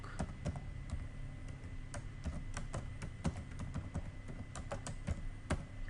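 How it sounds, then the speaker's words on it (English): Rapid, uneven keystrokes on a computer keyboard, close and fairly quiet, typing a short line of code in bursts with no voices. "so I'm typing"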